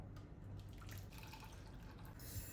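Rasam, a thin South Indian soup, strained through a sieve, with a quiet steady patter and trickle of liquid dripping close by, no voices.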